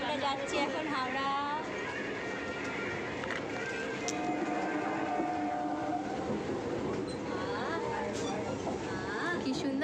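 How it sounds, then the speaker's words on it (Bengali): A passenger train heading to Howrah rumbles along with a steady rolling clatter, heard from inside the carriage under close, lively voices talking. "ট্রেনে উঠে পড়েছি।"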